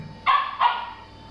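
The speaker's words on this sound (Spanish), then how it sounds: "Mi perro ladró." A dog gives two sharp barks in quick succession, fairly close and clear, then falls quiet, with no talking around it.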